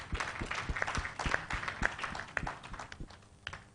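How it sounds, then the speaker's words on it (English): Audience applause at the Springboard 2021 Road Show virtual convocation for speaker Ken Oforiatta: dense, continuous clapping from many hands, fairly close and steady throughout with no voices over it. "a round of applause for Ken Oforiatta for those thoughts"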